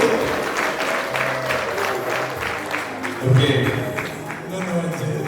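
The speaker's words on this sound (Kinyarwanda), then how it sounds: "Nimumwakire n'amashyi menshi n'impundu." Wedding guests applaud with a dense patter of many hands clapping at close range, joined by cheering and ululation, with voices mixed into the noise.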